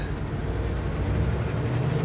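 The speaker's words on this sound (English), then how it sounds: "what's wrong with that train? It's like it's just pulling really hard." A Canadian National freight train labors up a grade near Quesnel, British Columbia, giving a continuous low, heavy rumble and rolling drone that holds steady throughout.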